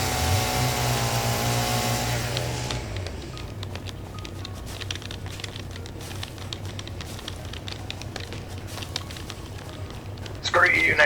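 Chainsaw cutting large trees in the video game Satisfactory, a rough, continuous buzzing saw roar that follows a steadier tonal engine drone and carries on under dense noise.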